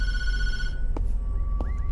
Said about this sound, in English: Hint, don't answer the phone.